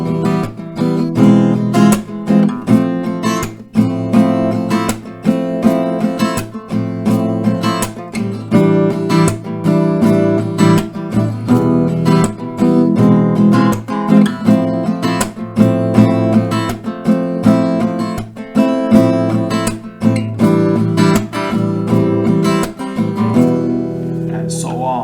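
Acoustic guitar strumming the chord pattern of a song, several steady rounds of rhythmic down-and-up strokes, close and full, carrying on without pause until a brief trailing strum at the end.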